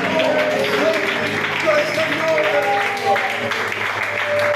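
Applause in a church, clapping mixed with a voice and tonal sounds, moderately loud and continuous.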